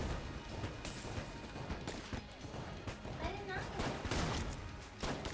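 Rapid bursts of gunfire from constantly changing random weapons in Enter the Gungeon, crackling volleys and sharp shots layered over game effects and speech.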